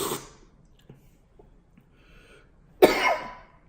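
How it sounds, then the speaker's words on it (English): A single sharp cough bursts out near the end after some quiet breaths and faint rustles, loud and close, while slurping coffee at a cupping. "it makes you cough"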